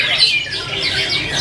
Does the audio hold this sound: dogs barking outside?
no